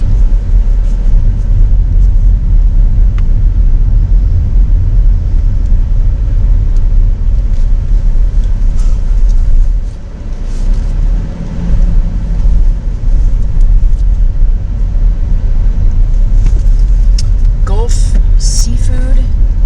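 A car drives through a Texas coastal town, its low steady road rumble and engine noise filling the cabin, loud and continuous, with a brief dip midway and some clatter near the end.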